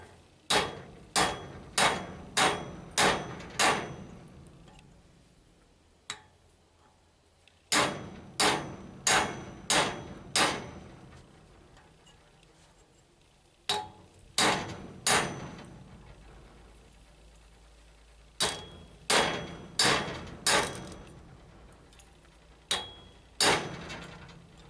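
Steel being hammered on an anvil to cut it during knife forging from salvaged steel: sharp metallic strikes in quick bursts of four to six blows, separated by short pauses, loud and ringing with no talk.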